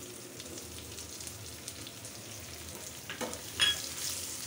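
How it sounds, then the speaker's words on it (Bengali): Garlic, onion, ginger and dried chili fry in mustard oil, giving a soft, continuous sizzle with light stirring. A few louder scrapes come near the end, and no one speaks. "এখন সরিষার তেলটা দিয়ে দিয়েছি আর শুকনো মরিচটা ভাজতেছি।"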